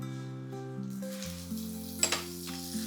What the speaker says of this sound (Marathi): त्यामध्ये आपल्याला थोडंसं तेल टाकायचंय आणि तेलासोबतच एकदम थोडंसं बटर पण टाकून घ्यायचंय